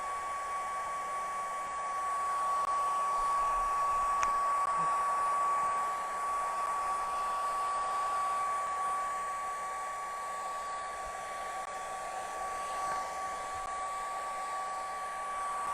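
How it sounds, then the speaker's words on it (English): Hair dryer on its low setting blowing over wet paint on paper, a steady close whirring hum with a constant high tone, running unbroken throughout without speech. "I'm going to turn on my hair dryer, hold my paper, turn my dryer on low"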